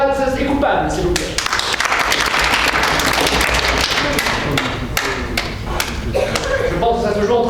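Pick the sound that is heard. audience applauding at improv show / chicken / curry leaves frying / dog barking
audience applauding at improv show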